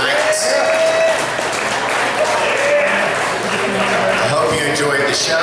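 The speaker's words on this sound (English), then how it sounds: "give yourselves a big round of applause" A comedy show audience claps in a loud, steady, full round of applause that fills the whole stretch, with some voices and cheering mixed in.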